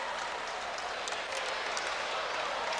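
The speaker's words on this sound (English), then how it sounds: "the crowd's starting to pound the bleachers here" A men's college volleyball crowd in a gym pounds the bleachers, making a dense, rumbling roar of stomping and cheering that stays loud and continuous with a few sharper accents.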